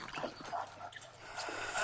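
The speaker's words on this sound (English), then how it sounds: "the thing about the dogs is they'll chase you until the end of time" Dogs in the survival game 7 Days to Die, with short, fairly faint snarls, pants and barks close by in a brief burst.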